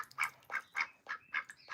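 A pet duck quacks indoors in a rapid run of six or seven short, nasal, evenly spaced calls, close and fairly loud, with no talking over them.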